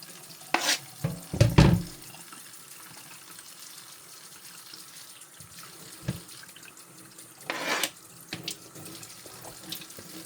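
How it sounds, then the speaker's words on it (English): Kitchen tap running into a sink while cabbage slivers are rinsed off a cutting board, with bursts of splashing water, clatters of items being handled, and quieter trickling between. "I get everything so wet because I'm constantly rinsing stuff off"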